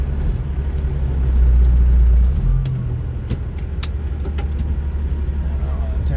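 A truck pulling a trailer uphill, its engine giving a deep, steady rumble close by that rises and then settles, with occasional small clicks and rattles over the drone.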